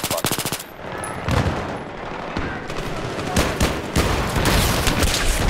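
Rapid automatic rifle fire in a shooter video game on the Ziba Tower map, loud bursts of closely spaced shots rattling in quick succession with short gaps, dense and continuous across the stretch.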